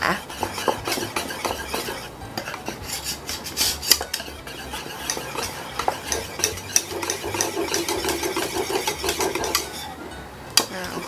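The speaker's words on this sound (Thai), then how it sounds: "คนให้เนยละลายนะคะ" Butter is stirred in a pot as it melts for chocolate truffles, with close, continuous scraping and clinking of a utensil against the pan in an uneven rhythm and faint sizzling underneath.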